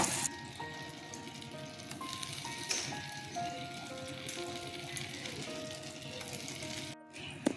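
Eggs frying in melted butter in a hot frying pan, a steady soft sizzle with crackling pops throughout, close and fairly quiet, with no talking.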